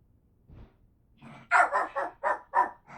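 A dog barks in a quick burst of five or six sharp, fairly close barks after a brief soft whimper, with no talking over it.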